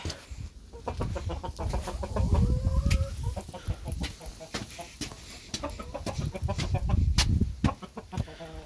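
Several chickens cluck continuously at close range, with overlapping calls, scratchy rustling and a few louder squawks.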